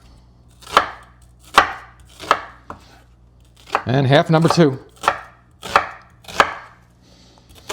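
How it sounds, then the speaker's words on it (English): A knife chops mushrooms on a cutting board with about nine crisp, sharp strikes at uneven spacing, close and clear, with a short spoken phrase breaking in midway. "And let's get to chopping."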